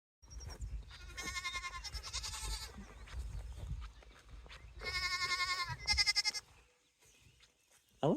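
Goats bleat back in two loud, wavering bursts, close by, with quieter rustling and faint movement in between.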